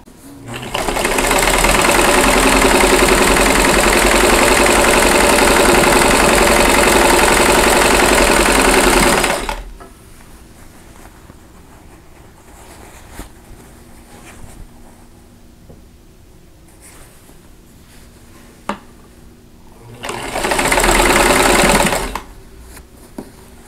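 A sewing machine stitches quilt sections for a Flight of Swallows quilt in two bursts: a loud, steady whir lasting about nine seconds, a quiet pause with faint handling noises, then a second short run of stitching.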